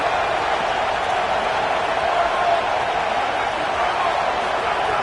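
A football stadium crowd at a USC versus Texas A&M game roars steadily as the home fans try to keep the opponent pinned deep in its own end, a dense, loud and continuous wash of noise.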